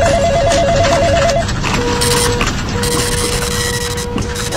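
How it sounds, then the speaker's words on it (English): Telephones ring insistently at a radio call-in show, several trilling bells overlapping in a busy, steady clamour with no voices. "Wow, Tim, the phones are really lighting up"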